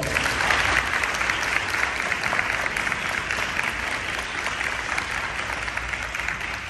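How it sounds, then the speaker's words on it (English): At a high school aviation symposium ending ceremony, an audience applauds in a steady, continuous roar of clapping that stays even throughout, moderately close and without talk. "Please give him a round of applause."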